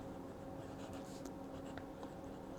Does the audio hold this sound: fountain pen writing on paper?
yes